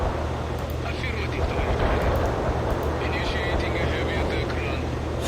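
Military helicopters in the real-time strategy game World in Conflict, a steady loud rotor and engine drone with rumbling battle noise, mixed under a voice talking throughout.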